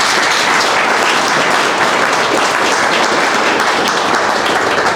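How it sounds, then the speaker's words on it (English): An audience at a film festival awards ceremony applauds the nominees, dense continuous clapping that stays loud and even for about five seconds with no speech over it. "Big round of applause for our nominees."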